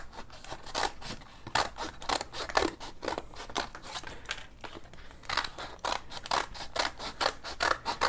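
Scissors snip steadily while cutting fingers into a mitt-shaped piece, giving a dense run of crisp, close cutting clicks at a brisk, uneven rhythm with no speech.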